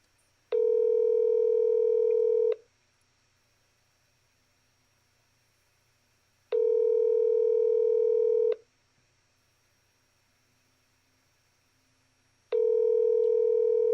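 A phone call rings out before reaching voicemail, with three evenly spaced two-second ringback tones separated by silent gaps, clear and steady over a faint line hiss.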